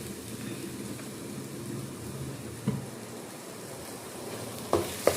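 Spice powders stirred into a frying pan for a fish curry over a low flame: a steady, even sizzle throughout, with a few brief clinks of the spoon against the pan near the end.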